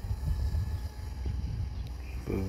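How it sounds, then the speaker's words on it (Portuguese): Low rumbling wind buffets the microphone continuously ahead of approaching rain, a steady blustery roar with a faint tonal hum in the background. "E tá ventando um bocado, viu?"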